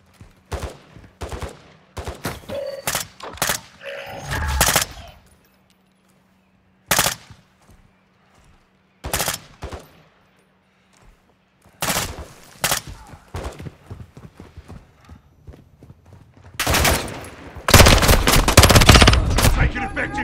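Machine gun fire in Call of Duty: Modern Warfare II, loud sharp bursts of automatic gunfire coming in irregular clusters with short silent gaps, ending in a sustained heavy fusillade.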